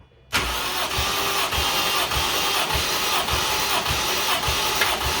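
A Toyota 1JZ engine in a Mark II turns over on the starter during a compression test, loud and close, with a steady, even chug of cranking pulses that continues without firing.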